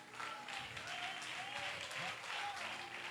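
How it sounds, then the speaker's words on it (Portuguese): A church congregation claps for Jesus during a worship service, a steady wash of applause lasting throughout, with voices and a sustained tone mixed in beneath the clapping. "Palmas para Jesus."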